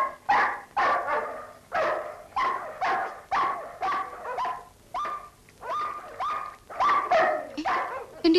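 Several dogs bark repeatedly and loudly in quick, uneven bursts close by, with some yips mixed in and only brief gaps between barks.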